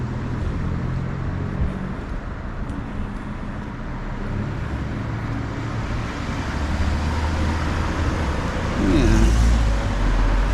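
Steady street traffic rumbles along Cottage Street in Bar Harbor, Maine, with cars creeping through a jam, a continuous loud roadway wash swelling near the end as a vehicle passes close; a voice briefly speaks.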